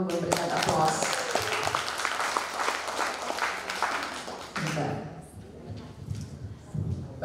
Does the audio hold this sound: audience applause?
yes